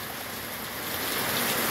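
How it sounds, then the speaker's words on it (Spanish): Heavy rain pouring down in Barrio de Guzmán, a steady, dense hiss filling the air, close and constant with no voices. "les mando este bonito video de la lluvia que está cayendo acá"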